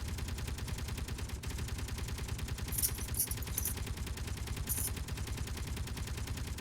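Guns firing in the video game Space Engineers: a rapid, continuous stream of automatic shots, fairly quiet, with a few sharper bright bursts mixed in and no talk.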